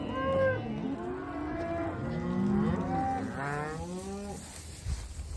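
Cows and bulls on a dry farm behind a barn low repeatedly, several overlapping moos rising and falling, close and loud with no talk.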